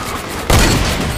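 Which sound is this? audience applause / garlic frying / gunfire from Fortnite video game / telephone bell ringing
gunfire from Fortnite video game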